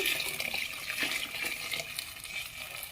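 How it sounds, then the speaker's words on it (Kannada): Water pours into a pot of tempered spices for a sprouted green gram curry, splashing and sputtering as it meets the hot pan. The sound is a steady, moderately faint gush with bubbling, and no voices. "ನೀರು ಹಾಕ್ತಾ ಇದ್ದೀನಿ"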